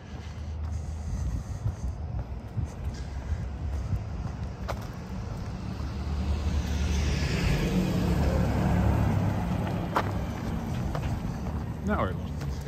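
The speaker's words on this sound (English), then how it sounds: "Here comes the school bus." A school bus passes on a residential street in Regina on a sub-freezing early morning, its engine rumble swelling as it draws near and fading away, with steady road noise and a person's footsteps throughout.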